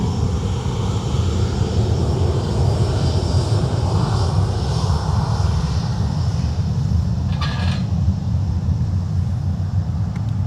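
A Ryanair airliner's engines roar steadily through the takeoff roll at Dublin Airport, a loud, continuous broadband rumble that stays strong from start to finish, with a faint whine rising briefly near the end.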